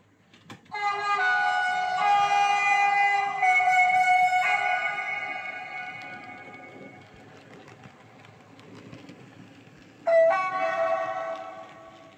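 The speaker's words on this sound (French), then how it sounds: "Un klaxon, on peut voir." A loud CC 70002 locomotive horn sounds a long chord-like blast, fades away, then blares again briefly near the end over faint engine rumble.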